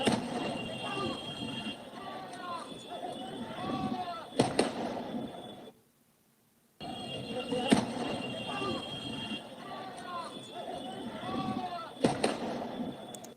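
Police gunfire at a protest in the Netherlands, several sharp loud cracks standing out over shouting crowd voices, heard in two repeated passes separated by a short silence.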